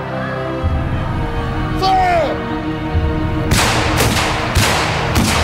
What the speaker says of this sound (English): Napoleon would start a battle with a massive artillery bombardment